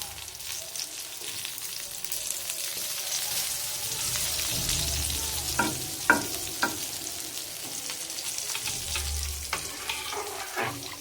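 Chopped coriander leaves fry in oil, giving a moderate, continuous sizzle with a few brief clinks and scrapes of stirring in a home kitchen.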